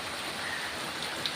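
Rain falling steadily around a house on a Sunday, a dense even hiss of drops with no breaks and no voices.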